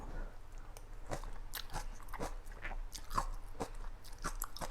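Someone bites and chews tender lotus stems from a coconut-milk soup with steamed mackerel, close up, in a steady run of wet, crunchy bites with no talking.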